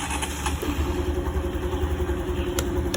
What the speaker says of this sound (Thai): เดี๋ยวเราไปติดเครื่องกัน